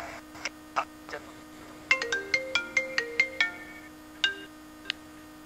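A telephone ringtone for an incoming call plays as a melodic sequence of bright electronic beeps, first several scattered tones, then a quick rising run of notes, then two more, over a steady low mains hum.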